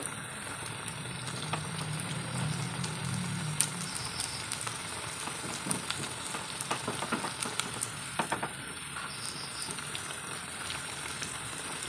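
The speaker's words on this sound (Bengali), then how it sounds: "এক পিঠটা ভেজে নিয়েছি, এখন উল্টিয়ে দিয়ে আর এক পিঠটা ভেজে নিব।" Stuffed jama snacks fry in hot oil, giving a steady, fairly quiet sizzle with scattered pops and crackles as the pieces are turned.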